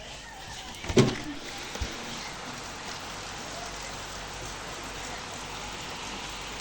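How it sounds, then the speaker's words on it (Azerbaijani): Steady rain falls outdoors in a dense, even hiss that runs the whole time, with a brief knock or thump near the start. "İndi də baxın, hələ də yağış yağır."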